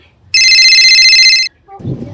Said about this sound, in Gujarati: મારા બાપુનો ફોન આવ્યો